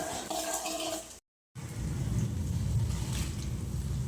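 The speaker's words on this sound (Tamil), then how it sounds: "அந்த அளவுக்கு நல்லா வதக்கிக்கோங்க" Onions and garlic sautéing and being stirred in a pan for a Tamil kara chutney, a close sizzle with scraping stirs, cut by a brief full silence before the frying resumes.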